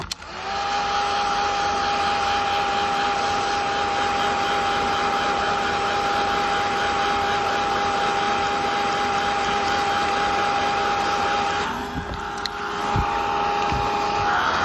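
A heat tool blows steadily to heat set mica powder, a loud continuous whooshing roar with a faint high whine, holding level for about twelve seconds before briefly shifting in tone and resuming.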